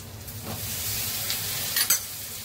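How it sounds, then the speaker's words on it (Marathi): Vegetables go into a pan of cooked onions and spices, giving a continuous close sizzle with a few light stirring scrapes and a short louder burst near the end; no speech. "आता यांना आपण त्याच्यात भाज्या टाकू।"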